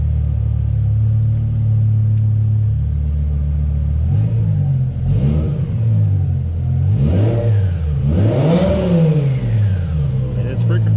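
A BMW M5 engine idling with a deep steady rumble, then revved hard several times, each blip rising and falling in pitch, loud and close; a person talks briefly over it.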